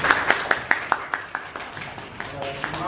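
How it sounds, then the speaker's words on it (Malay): Applause in a classroom for a student, a small group of hands clapping in a loose, regular rhythm of distinct nearby claps that slowly fade. "Beri tepukan untuk jurong."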